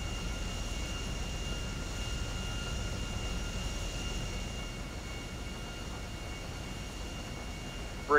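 An airliner rolls for takeoff in the GTA 5 game, a steady droning engine roar with a whining tone, constant and moderately loud for the whole stretch, ending in a brief sharp blip.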